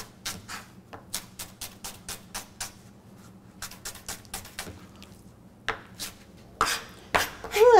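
A knife chops an onion on a cutting board in a coastal kitchen, quick crisp taps in an irregular rhythm, close and clear with no talk.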